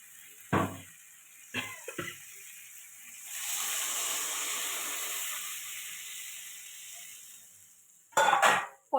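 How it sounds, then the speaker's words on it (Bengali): Water poured into a hot pan of frying masala for a Bengali bhola fish curry with potato and tomato, giving a sustained sizzling hiss of a few seconds, framed by brief clinks and scrapes of utensils before and after. "এবার জল দিয়ে দেবো।"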